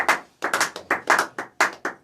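A church congregation claps in a quick, uneven rhythm: about eight sharp bursts of hand claps over two seconds, close and loud, with no voices over them.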